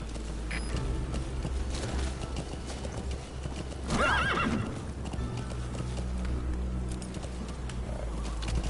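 Horse in the video game Metal Gear Solid V galloping in a steady clip-clop rhythm across open ground, with a loud whinny midway and faint bird calls behind.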